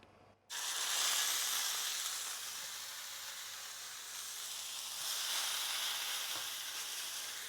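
Pork tenderloins hit a pan of hot olive oil on high heat, breaking into a sudden loud sizzle that settles into a steady, close hissing sear with slight swells.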